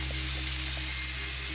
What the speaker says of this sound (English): The pork chops are fried up on both sides